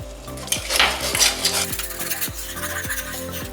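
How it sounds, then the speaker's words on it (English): Tuscan chicken pasta sauce is stirred in a pan over medium heat, a spoon scraping and clinking against the metal in a repeating rhythm, close and clear with no voices. "I'm just gonna stir this up and cook it over medium heat"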